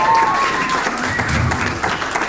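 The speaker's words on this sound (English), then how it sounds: "Quick round of applause." Wedding guests applaud the mother of the bride at a reception, a steady wash of clapping over crowd murmur and some faint talk, with a brief tonal sound near the start.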